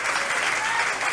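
A town hall audience bursts into applause, a dense, steady wash of clapping heard briefly and fairly loud.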